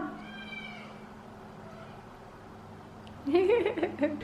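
A cat meows close by, with a drawn-out tonal call at the start and a louder burst of meowing near the end over a quiet room background.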